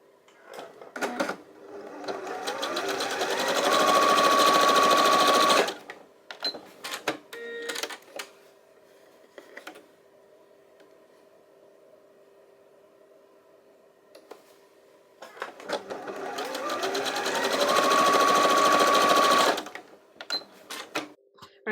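A sewing machine runs in two quick bursts, stitching quarter-inch seams beside a drawn line on quilt half-square triangles, with a quiet pause and small clicks between them.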